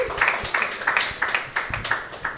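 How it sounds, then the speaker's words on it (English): A stand-up comedy audience claps in a small, scattered burst of separate hand claps that thins out quickly, with no talk over it. "Clap if you've done online dating."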